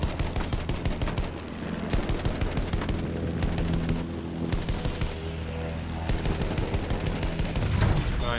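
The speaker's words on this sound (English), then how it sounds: "that guy is shooting us all the time." Sustained gunfire from an enemy in a beach combat video game, rattling machine-gun bursts layered with booms and a busy battle din, loud and continuous throughout.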